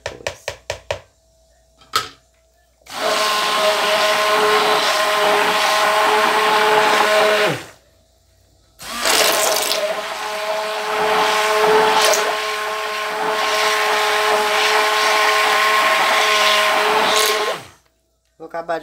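An electric mixer beats a juá soap mixture in two long, loud whirring runs separated by short pauses, with brief clicks as it starts and stops.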